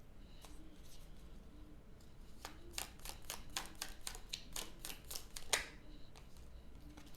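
Tarot cards are shuffled and drawn from a deck, a run of quick crisp flicks and snaps in close succession, quiet and near, with no talk.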